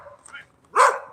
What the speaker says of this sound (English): It's dog after dog barks.